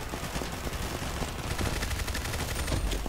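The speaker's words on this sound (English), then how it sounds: "I hate the shotgun." Rapid gunfire from a shotgun in the first-person shooter game Combat Master, a dense, loud stream of repeated blasts with an energetic game soundtrack throughout.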